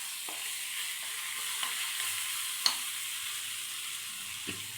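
Coriander leaves hit hot oil in a pan as a tempering for brinjal chutney, giving a steady soft sizzle with a few faint stirring clicks and taps.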